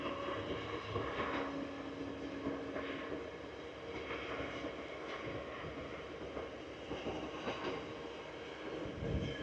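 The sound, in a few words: passing train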